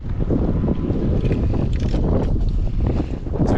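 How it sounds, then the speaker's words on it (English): Strong wind gusts beside a narrow canal, buffeting the microphone with a steady, roaring rush that fills the whole moment. "It is so windy"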